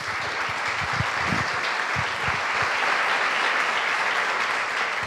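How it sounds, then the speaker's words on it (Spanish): A church congregation applauds together, a steady dense wash of many hands clapping for about five seconds, loud and even throughout with no talk over it. "Dele un aplauso al Señor."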